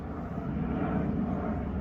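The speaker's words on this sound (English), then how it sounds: "An airplane going through the cloud cover." Fixed-wing airplane passing overhead through cloud cover, a steady low droning engine roar heard from a distance outdoors at a campsite, continuous and even with no talking.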